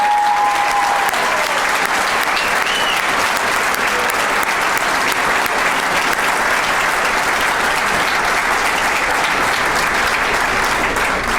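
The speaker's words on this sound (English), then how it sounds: "I want you to give these people standing a big old round of applause" Sustained applause from an audience at a spring ring ceremony, clapping for standing parents and grandparents, a dense, steady wash of hands that stays loud and even throughout without pause.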